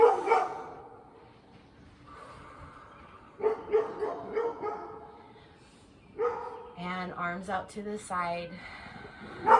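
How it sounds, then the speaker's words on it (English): Short barks and yips from a dog in the background break in several times as a woman calmly guides a prenatal yoga session, with the barking clustered near the end. "Excuse the dog barking in the background."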